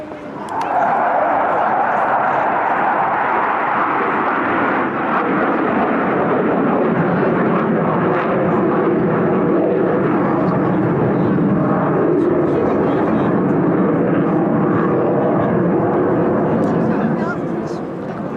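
A de Havilland Sea Vixen, a twin-boom, twin-engine jet fighter, flies past at the Bournemouth Air Festival, its loud, steady broad roar filling the whole stretch while a commentator talks over it.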